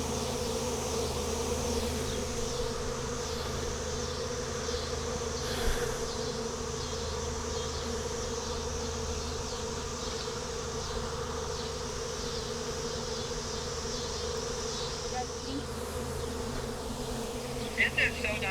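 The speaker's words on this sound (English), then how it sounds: "all the bees are bundling on top of that queen" A wild honeybee swarm clustered on its queen gives a loud, dense, continuous buzzing that fills the whole stretch close by, with the odd single bee whining past near the end.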